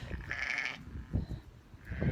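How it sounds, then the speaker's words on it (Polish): Sheep with young lambs bleat outdoors at a farm, two drawn, wavering calls a few moments apart, clear and fairly close over low background rumble. "słyszycie te owce?"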